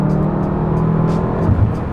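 A BMW M5 F10 revs at high RPM from inside the car, a loud, continuous engine drone with a slight rise and waver as the throttle is held.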